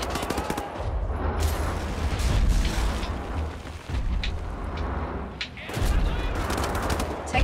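Two guns fired at once in Wolfenstein: The New Order, a steady run of loud, rapid gunfire with short gaps, heavy low-end thumps throughout.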